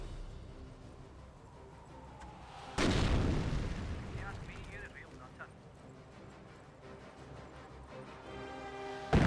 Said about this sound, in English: where's the round barrage going?